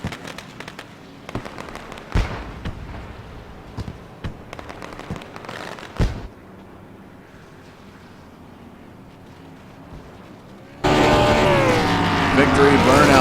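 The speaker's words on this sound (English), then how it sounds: "See the fireworks display coming out." Distant fireworks pop and crackle in scattered bursts under steady background talk and crowd noise at a stock car race at Auto Club Speedway, followed by a loud, sustained roar near the end.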